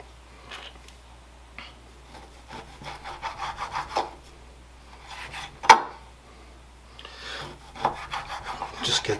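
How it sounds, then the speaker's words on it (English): A chef's knife slices raw flat iron steak into thin strips on a cutting board, heard as repeated close scraping and rasping strokes with a sharp knock midway. "I'm going to use my chef's knife to do that. Just going to make thin slices out of it."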